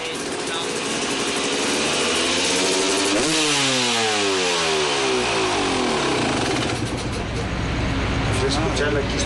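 A freestyle motocross motorcycle at an X Fighters event in Mexico revs loud and close, its engine note surging and then sweeping down before climbing again, with a constant roar and crowd noise throughout.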